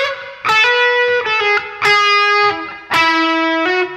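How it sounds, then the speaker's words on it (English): Electric guitar playing a major 7 lick, three loud, close phrases of bright sustained notes with slides and bends, each phrase ringing out before the next begins. "So I'll just play section 3 in its entirety now."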